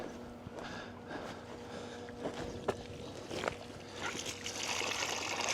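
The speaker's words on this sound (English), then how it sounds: "Uh-oh, another leak here." Water trickles and splashes steadily from a leak in a pool pump setup outdoors, a continuous wet hiss with small drips and splatters throughout.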